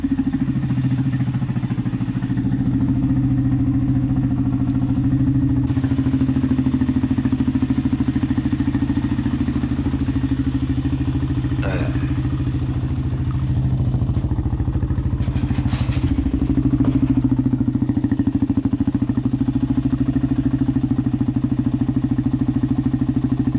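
A 2004 Arctic Cat DVX434 ATV engine runs steadily and loud and close, with a deep, even drone that rises and falls slightly in pitch, and a few light clatters and knocks over it.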